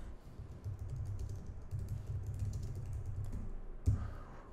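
Fingers type on a computer keyboard at a steady pace, producing a close, quiet run of soft key clicks, ending with one slightly heavier tap, with no one speaking.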